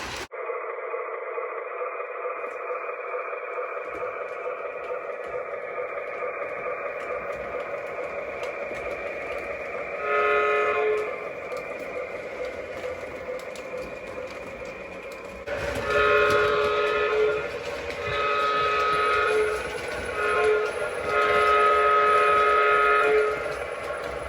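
A Menards SOO Line O gauge model train set running on its track with a steady electronic rumble, its whistle sounding in several sustained toots, the last ones longer and louder.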